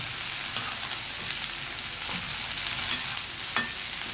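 A garlic tempering for a Gujarati bhindi-potato dish sizzles in a pan after the gas is switched off, giving a steady close frying hiss with a few soft clicks and light stirring.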